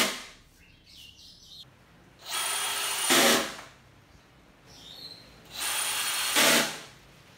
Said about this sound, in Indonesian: karena akan gue sekrup papannya di 4 bagian